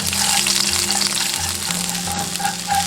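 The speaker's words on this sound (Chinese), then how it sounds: "倒入少许煎鸡肉的油，烧料头炒香" Aromatics are stir-fried in a little chicken-frying oil, giving a loud, close, continuous sizzle with scraping stirs and a low hum underneath, no voices.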